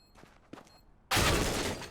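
Counter-Strike gunfire: after a near-silent stretch with a few faint taps, a loud, dense burst of shots erupts suddenly and continues to the end.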